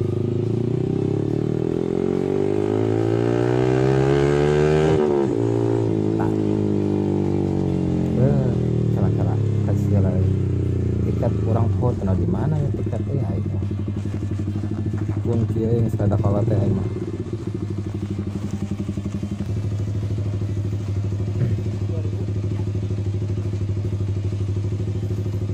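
A Yamaha R15 V3 155cc motorcycle with an R9 racing exhaust revs up loudly, then idles and burbles with throttle blips, close and continuous throughout.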